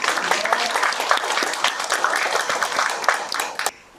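An audience at a neighborhood residents' general assembly applauds the residents' council chairman, a short burst of steady clapping that ends abruptly.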